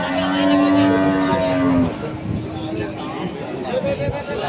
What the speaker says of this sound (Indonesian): Simetal dan juga ada limusin